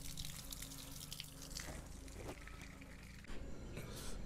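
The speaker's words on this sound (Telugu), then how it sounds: "కాళ్ళు చేతులు అయితే కడుక్కుందాం, మంచిగా కడుక్కొని అయితే లోపలికైతే వెళ్ళిపోదాం." A tap runs steadily as hands and feet are washed at a temple near Bhadrachalam, giving faint continuous splashing and trickling with a few louder drips and splashes, and no speech.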